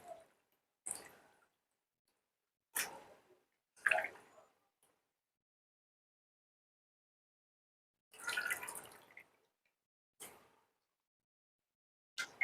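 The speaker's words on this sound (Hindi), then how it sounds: "इसको अच्छी तरह वॉश कर लें, इसका ब्लड निकाल लें" Small pieces of mutton being washed in water for achar gosht, intermittent wet splashes and sloshes in short separate bursts with silent gaps between, close and fairly quiet.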